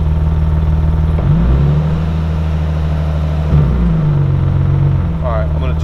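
Nissan 370Z engine with a throttle fault, idling at a loud, steady drone that barely rises when the pedal is floored, with a few faint shifts in pitch and a brief whine near the end, heard up close with no talk over it.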